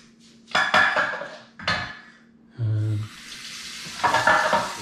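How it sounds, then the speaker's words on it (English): A pan set down in a sink, loud metallic clatters and clanks in separate bursts with a short rush of running water between them, close and without talk. "Let's stick the pan in the sink."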